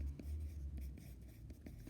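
A hard graphite pencil scratches across paper in short, soft strokes, close and quiet, with a faint low hum behind and no talking.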